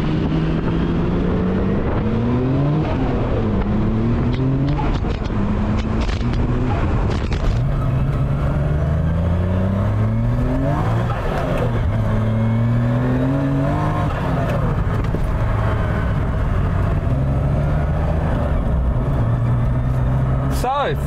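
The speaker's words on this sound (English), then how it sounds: "So let's take it for a drive," A Nissan R32 GTS-4 sedan swapped with an RB26 engine and six-speed gearbox driving on the road, loud steady engine drone with repeated rising revs through the gears, heard from inside the car with a voice talking over it.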